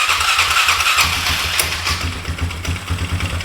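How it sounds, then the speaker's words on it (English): A 2001 Polaris Scrambler 500 2x4 ATV engine cranking with a rapid mechanical chatter for about a second, then catching and running with a low, fast, uneven putter, loud and close with no talk. "click it over, it'll start running"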